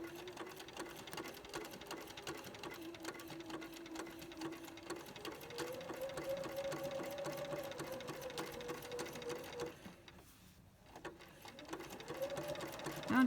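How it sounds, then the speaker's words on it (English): A sewing machine runs steadily while stitching appliqué with monofilament thread on a zigzag setting, a close continuous rapid whirring hum that pauses briefly near the end before starting again. "I'm just continuing to sew over it"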